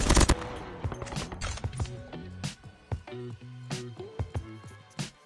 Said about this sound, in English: The Switchblade X9 is a good SMG that deals 27 damage, with an extremely fast fire rate